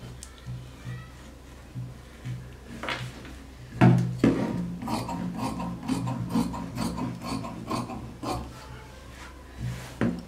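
Scissors cut through blouse fabric on a tailoring surface, a run of close rasping snips and rubbing strokes that start sparse and grow steadier, with a firmer burst midway, no talk.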